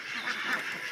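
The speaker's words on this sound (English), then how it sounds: "But let's stop and see the ducks on the way." A duck gives a brief quack on a farm, a single nasal call lasting about a second, close and moderately loud.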